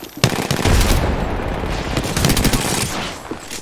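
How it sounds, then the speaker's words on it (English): Loud, dense automatic gunfire in the video game Apex Legends, rapid sustained bursts of shots close up with continuous rattling and impacts filling the whole stretch. "Hey, I'm getting shot."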